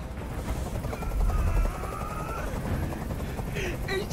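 A helicopter rumbles low and steady in a tense standoff scene from the game Detroit: Become Human, its drone running continuously under raised voices and faint distant gunfire.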